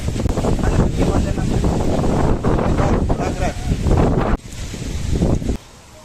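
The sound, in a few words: strong wind blowing at a UK farm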